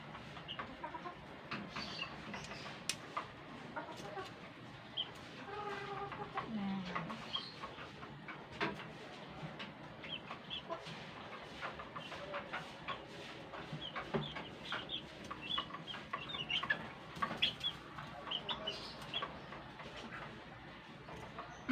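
Bulik gamefowl chickens clucking in their territory, scattered soft clucks and clicks over a long stretch of quiet outdoor ambience, mostly moderate in distance, with people talking intermittently in the background.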